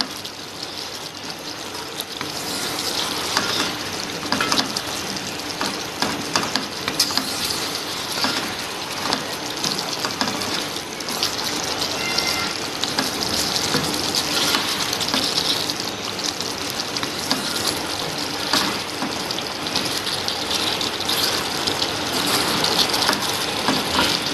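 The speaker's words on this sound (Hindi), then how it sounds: "अब स्पाइस के साथ इनको अच्छी तरह से चिकन को हमने भून लेना है।" Chicken frying with spices in a kadai, a loud continuous sizzle that holds steady throughout with no talking.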